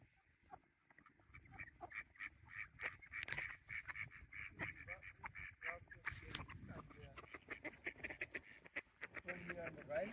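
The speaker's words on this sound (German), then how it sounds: "Die Enten sind ganz skeptisch." Ducks quacking repeatedly in short, irregular bursts at close range, with faint background noise.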